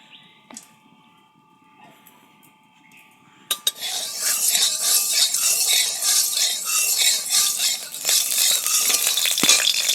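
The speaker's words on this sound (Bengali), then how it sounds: "এই কড়াইতে আমি একটু ঘি দিয়ে দেবো।" Ghee hitting a hot wok over a lit stove bursts into a loud, close, continuous sizzle. A few faint clinks come before it, and the sizzle runs to the end with stirring scrapes, with no talking.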